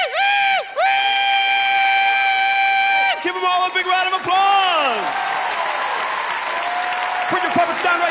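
A ventriloquist show crowd breaks into applause and cheering after a puppet act, with loud, sustained clapping overlapped by whoops and sliding whistle-like vocal tones, including a long held note at the start.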